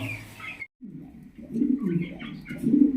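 A pair of large fancy pigeons coo in low, throaty, rolling calls close by, repeated several times after a brief pause near the start, with a faint higher chirp in the background.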